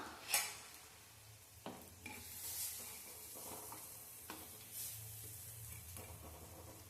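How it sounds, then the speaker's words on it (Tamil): Dried fish (karuvadu) being sautéed in a clay pot, soft sizzling under occasional sharp scrapes and knocks of a spoon stirring against the pot, quiet and close. "இப்போ அந்த கருவாடும் உடையக்கூடாது, அந்த அளவுக்கு வதக்கி எடுத்துடலாம்"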